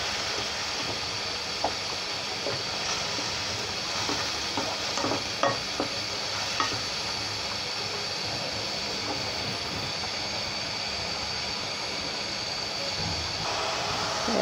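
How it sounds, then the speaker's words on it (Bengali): Onion paste frying in oil while being stirred for a mutton rezala, a soft continuous sizzle broken by scraping stir strokes and small clinks, moderately quiet with no talk. "পেঁয়াজ বাটা দিয়ে দিলাম। এখন এটা একটু তেলের সাথে একটু ভাজা ভাজা করব"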